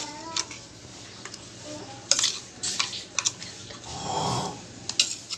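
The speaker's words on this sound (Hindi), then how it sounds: "मैरिनेट करने के लिए पहले हम मसालों को मिला लेंगे एक साथ" A spoon clinks and scrapes in a bowl, stirring ground spices, red chilli, turmeric and ginger-garlic paste together into a marinade for chicken; short irregular taps and scrapes, close and fairly quiet, with no talking.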